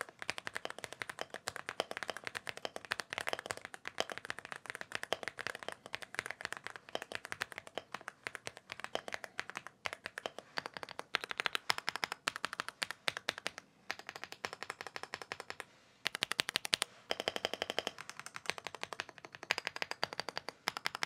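Rapid, continuous clicking of an AULA F75 mechanical keyboard with replacement keycaps being typed on, dense and fairly close, with brief pauses and bursts of faster keystrokes.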